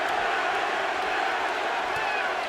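A boxing arena crowd roars and chants for Kelly Pavlik during his fight against Jermain Taylor, a thick, continuous wall of massed voices with no single voice standing out.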